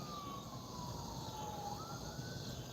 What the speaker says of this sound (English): I hear a meat wagon. Here comes an ambulance.